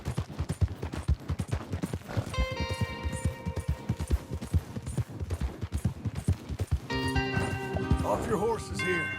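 Horses gallop in Red Dead Redemption 2, a dense, steady run of hoofbeats throughout with gunfire-like bursts and tonal music or effects layered over it, as voices talk.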